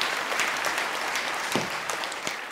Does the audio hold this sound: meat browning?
no